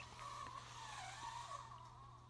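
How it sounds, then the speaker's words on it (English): Proline Aztec tires on an Axial SCX30 RC crawler rubbing against the body give a faint, continuous scuffing squeal over a low motor hum, close but quiet. "That's the tires and things rubbing on the body."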